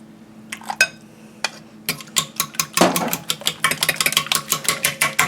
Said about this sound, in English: I'm just going to run my fork through those.